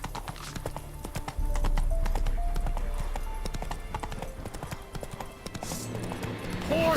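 Rapid clip-clop of Roach the horse galloping in The Witcher 3, hoofbeats pounding close and loud with a brief whinny near the end.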